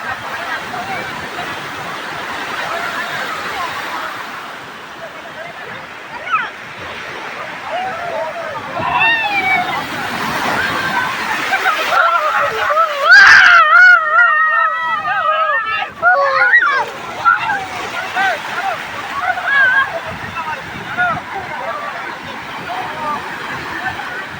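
Sea waves crash and roar at the shore in a continuous rushing wash, swelling to a heavier surge midway, while several people talk and shout over the water.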